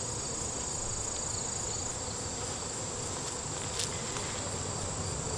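Dense, continuous buzzing from a mass of honey bees crowding a hive frame during an inspection, a steady close-up drone with no talking.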